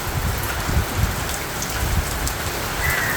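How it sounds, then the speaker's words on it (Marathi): Heavy rain pounds metal roof sheets in a gusty downpour, a steady loud close-up hiss with heavier thudding drops scattered throughout and no speech. "आज जोराचा आहे पाऊस."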